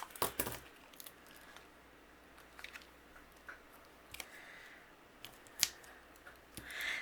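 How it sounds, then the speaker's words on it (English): Scissors trimming a foam square for a handmade card, a series of quiet, close snips and crisp cuts spaced irregularly over a hushed background. "I'm going to go ahead and trim down one of my foam squares."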